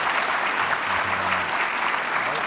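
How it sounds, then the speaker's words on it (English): An audience claps for the speakers at a Supreme Court year-in-review event, a steady, full wash of applause with faint murmurs beneath. "how about a round of applause for our speakers?"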